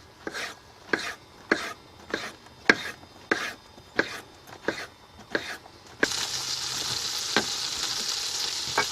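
A knife slices dryad's saddle mushrooms in steady, crisp strokes on a board about a dozen times, then a loud sizzle of frying in butter takes over.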